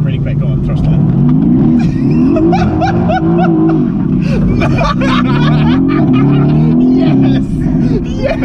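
A Renntech AMG supercar's engine roars loudly and continuously as it revs and spins around in a drift, rising and falling in pitch, with excited voices talking over it.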